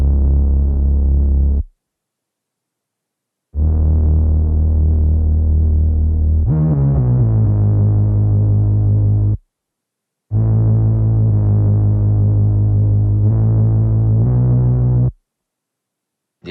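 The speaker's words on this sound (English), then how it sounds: "the thing that is changing is this cloud bass from the Grains library made by Joe in the app" Deep, buzzy distorted cloud bass sample from the Grains library, with Decapitator distortion on the Dark Fat preset, sustained in long phrases, separated by brief silences, with pitch shifts between sections.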